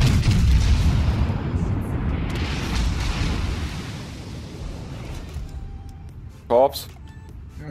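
Heavy ship cannons from a British battleship in World of Warships boom and rumble at the start, then the roar fades into a lingering low wash, broken near the end by a short electronic chirp.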